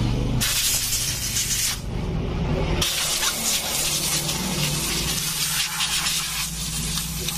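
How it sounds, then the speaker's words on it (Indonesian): Pressurized water spray blasting sand off a Yamaha Aerox scooter engine before the cylinder is taken apart, a loud steady hiss that cuts off briefly and then resumes. "Jadi sebelum kita bongkar di bagian boring, ini kita semprot dulu pasirnya nih."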